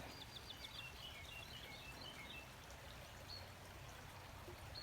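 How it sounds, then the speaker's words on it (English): A creek flows steadily beside a garden, a constant close rush of running water, with a few faint bird chirps above it early on. "And there's the creek."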